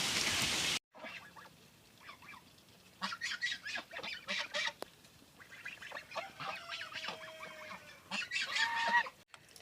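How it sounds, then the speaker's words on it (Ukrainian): Farmyard geese honking repeatedly at close to middle distance, overlapping calls in bursts with brief quieter gaps, and a few chickens mixed in as rain begins to fall. "Гусочки собі входять, кури ховаються"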